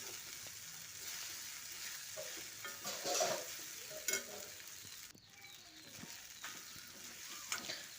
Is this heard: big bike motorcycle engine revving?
no